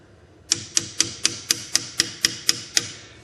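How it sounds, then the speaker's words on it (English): Ten sharp metallic taps in an even rhythm, a hammer striking a brass punch up close, each tap ringing briefly before the next. "I'm going to use a brass punch and a hammer here to lightly"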